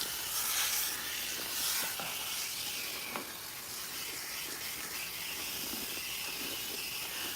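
Water runs and hisses steadily as a client's hair is rinsed at a salon wash station, a broad continuous spray with small splashy fluctuations and no talking.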